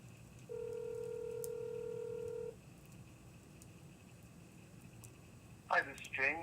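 A telephone keypad tone holds steadily for about two seconds, followed by quiet line hiss and then a short burst of voices near the end.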